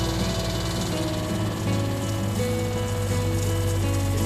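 An RV's freshwater pump, running after the system is pressurized during winterizing, gives off a steady close-up mechanical hum with layered tonal drones that shift slightly partway through as it winds down. No one speaks.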